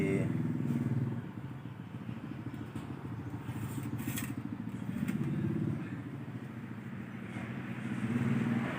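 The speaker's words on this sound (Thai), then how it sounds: "สตาร์ทเครื่องแล้ว" After an oil change, a motorcycle engine runs at a steady idle, a faint, continuous putter with light clattering through the mechanics.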